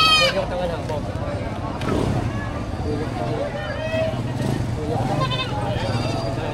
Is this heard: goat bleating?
yes